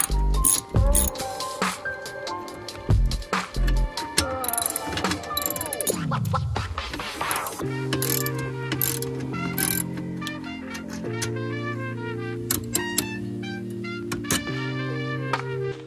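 A ratchet loosens the shock absorber bolts on a 2015 Club Car Precedent golf cart, with bursts of close, rapid clicking and metallic scraping, short pauses, and a faint whirring sweep partway through.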